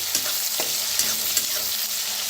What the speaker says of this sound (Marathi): आता छान असं भाजून घेऊया